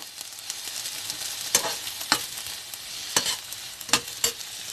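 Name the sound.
mixing pepper into plantain puff puff batter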